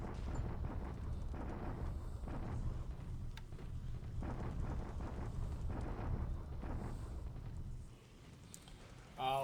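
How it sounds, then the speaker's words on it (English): Bombardment of Changsha in a WWII strategy video game, heard as a dense, continuous rumble of low booming explosions that rise and fall in bursts before fading near the end. "Bombardment of Changsha again."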